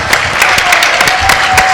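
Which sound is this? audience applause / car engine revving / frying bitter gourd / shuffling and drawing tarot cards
audience applause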